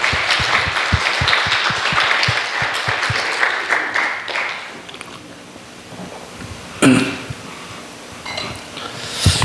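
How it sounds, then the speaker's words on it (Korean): Church congregation claps for newcomers rising from their seats, a burst of clapping that thins to scattered claps and fades into a quiet room with occasional shuffling and a short noise. "우리 박수로 한번"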